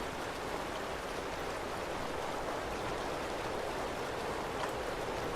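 Flowing water in the video game Fallout 4 runs as a steady, loud broadband rush, constant and unbroken with no other sounds over it.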